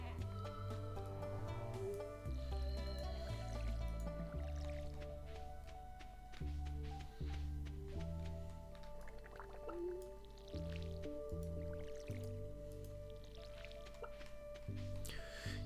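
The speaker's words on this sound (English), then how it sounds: "mustn't forget I do need to water these still" Crops being watered in the farming game Stardew Valley, a run of soft watering-can splashes and drips layered over steady background game music.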